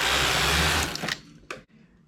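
A knitting machine with a ribber as the carriage runs a row, a loud continuous whirring rush that stops abruptly about halfway, then a brief clack and near silence.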